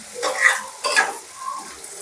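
Baingan do pyaza, an eggplant and onion curry, sizzles in a pan while being stirred, with two louder bursts of scraping and frying in the first second and a softer steady sizzle after, no talking.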